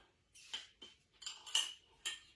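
A utensil swirls Easter egg dye around in a cup, making four or five quick clinking scrapes, close and soft, with no speech.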